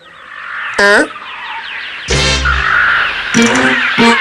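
Cartoon birds in a stone-age kids' comedy show let out several loud, harsh, squawking calls in separate bursts, with short gaps of quieter ambience between them.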